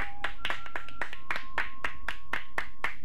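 Applause in a 1970 Dodge Charger television commercial: a short run of crisp, evenly spaced claps, close and moderately loud, over a faint steady tone.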